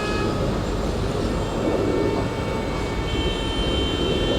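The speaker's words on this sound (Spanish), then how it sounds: "Los sonidos de los colectivos son tan porteños, la frenada, cuando doblan, los bocinazos" Dense Buenos Aires street traffic with city buses, a steady loud rumble and broad roar of engines and tyres continuing without pause, no voices.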